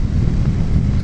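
Wind buffeting the microphone during a breezy ride on a Ducati 900SS motorcycle: a loud, steady, low rumble that fills the short moment with no other sound.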